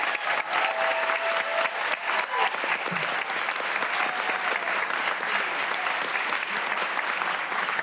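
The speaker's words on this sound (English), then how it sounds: "A huge round of applause for the panel number 2" A large audience at a Seattle City Council committee meeting applauds a panel, giving sustained, dense clapping that fills the room at steady strength from start to finish.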